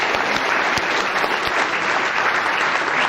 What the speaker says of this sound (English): I think you deserve a round of applause to show that.